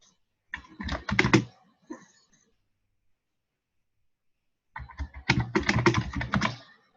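Two short bursts of rapid clicking on a computer keyboard, close and clear, separated by several seconds of silence, with no speech.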